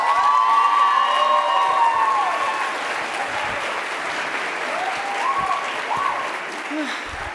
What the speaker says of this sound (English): I think I might need a little bit of a larger applause for Issa.